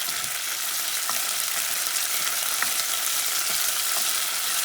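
Sofrito of onion, garlic, cilantro, culantro and pepper sizzling steadily in a pan for a Puerto Rican red bean stew, a close, continuous hiss with occasional small pops and no talk.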